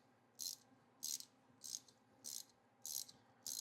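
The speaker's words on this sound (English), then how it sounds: "So we're sucking the oil out still." A hand pump sucks oil out of a supercharged jet ski engine, giving six faint, evenly spaced hissing strokes roughly every half second over a low background hum.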